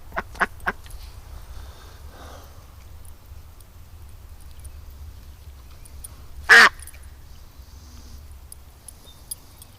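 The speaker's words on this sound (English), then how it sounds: "See, the problem is when the ducks move fast, it gets Doug excited." A few sharp quacks sound close together at the start, then a louder single quack midway, over a quiet outdoor background.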